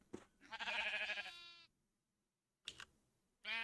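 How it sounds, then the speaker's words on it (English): Sheep bleating in the Minecraft video game, two or three close, clear bleats separated by pauses, the first long and wavering, with no talking over them. "And they should make a little orange baby sheep."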